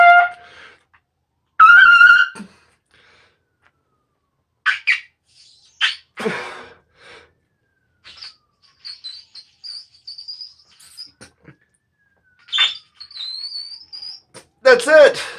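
A trumpet played at an extreme high register, reaching a quadruple G, comes through as thin, piercing whistle-like tones in short bursts and a sustained squeaky line, separated by silences, close and moderately loud.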